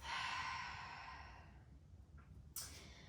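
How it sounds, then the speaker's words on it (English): A yoga practitioner's long, audible exhale through the mouth, breathy and close, fading out over a second or two, then followed by a quieter breath and a short sharp intake. "exhale through your mouth."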